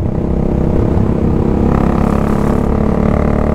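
A race truck runs on a race track, its engine giving a loud, steady, close droning roar that holds constant for a few seconds with no talking.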